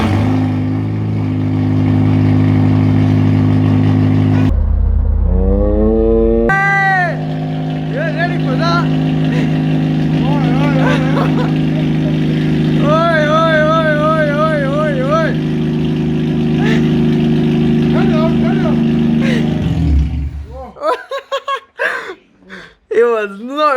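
Honda Civic Type R fitted with an unbaffled M2 Hornet exhaust fires up and revs hard, a loud, deep, rasping engine roar with rising and falling revs, ending in short bursts, with brief voices nearby.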